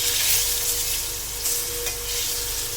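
Eggs and potatoes fry steadily in hot oil with turmeric for an egg curry. A continuous close sizzle holds throughout, with a few brief bumps from stirring.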